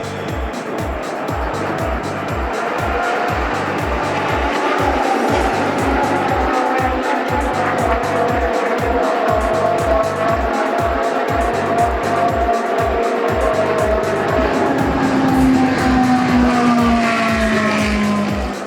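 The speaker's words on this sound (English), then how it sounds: "Trofeo Pirelli champion Carlos Kaufman, down to the green flag, and we're underway." Ferrari Challenge race cars get underway at the green flag during the 2016 Ferrari Finali Mondiali, their loud engines roaring together with rising revs and a throbbing low rumble, and a commentator can be heard faintly underneath.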